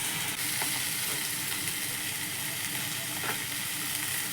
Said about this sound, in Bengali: এগুলোকে দিয়ে আমি আর একটু নাড়বো।